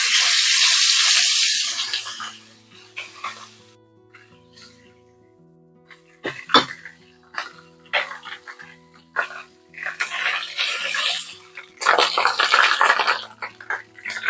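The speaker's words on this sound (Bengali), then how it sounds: "তেল গরম হয়ে গেছে, এখন দিব 1 table spoon ginger garlic paste" A tablespoon of ginger garlic paste hits hot cooking oil with a star anise pod for a sheekh kebab curry, a loud sizzle that fades, then spoon clatter with renewed bursts of hissing and a dog barking in the background.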